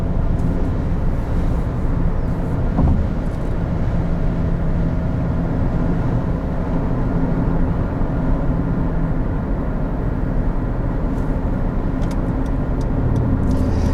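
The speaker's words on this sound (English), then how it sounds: "Gets up to speed quite well. With the CVT transmission, it will hold it where it makes optimum power, and it pulls really well." 2016 Honda CR-V EX-L with a CVT transmission accelerating, heard from inside the cabin: a constant, loud, dense drone of engine and road noise holding steady at one pitch throughout, no talk.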